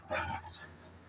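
A dog gives a short, faint yip or bark near the start, followed by quiet background in a home setting.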